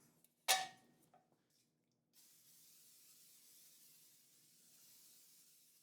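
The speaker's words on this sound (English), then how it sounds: "I'm gonna spray our tube pan with nonstick baking spray." A can of nonstick baking spray sprays a tube pan over a sink: one sharp, loud hiss lasting about half a second, a couple of small clicks, then a steady faint background wash.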